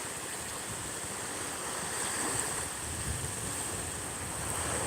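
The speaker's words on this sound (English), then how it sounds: "Like how the stick kind of goes down in the sand once the water comes in." Ocean waves wash in over sand, a continuous close roar of surf with some wind noise on the microphone, swelling slightly midway.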